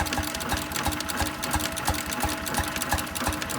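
Antique Bessemer generator set engine running at a show, firing in a steady, even rhythm of rapid regular beats with a mechanical clatter, close and continuous.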